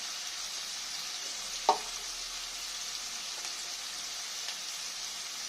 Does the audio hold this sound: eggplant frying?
yes